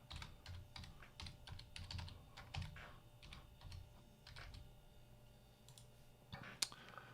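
A password is typed on a computer keyboard. Soft, close key clicks come in irregular clusters in a quiet room, ending with a sharper tap.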